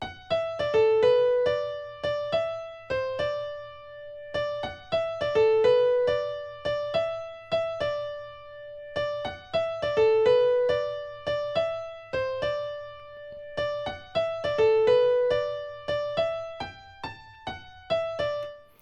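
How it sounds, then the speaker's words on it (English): A tropical pop house synth melody made in FL Studio bounces through short plucked notes in a repeating phrase, heard three times with a brief pause between phrases, loud and clean and with no voice. "Then I made myself a melody, which sounds like this"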